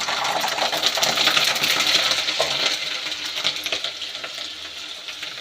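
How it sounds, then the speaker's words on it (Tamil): Garlic frying in hot oil for brinjal kara kuzhambu, a dense crackling sizzle with scattered sharp pops and scraping stirs, loud at first and easing slightly toward the end. "அடுத்தது பூண்டு போட்டுக்கலாம்."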